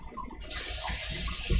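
A kitchen tap opened while cooking karaage chicken bursts into a loud, steady rush of running water that holds to the end, close and with no talk.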